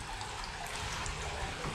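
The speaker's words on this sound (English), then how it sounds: "There's the water comes in right there off to the left." Water pours into an old underground tunnel off to one side, a steady hollow rushing wash that echoes and fills the space for the whole short stretch.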